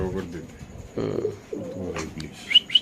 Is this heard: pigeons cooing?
yes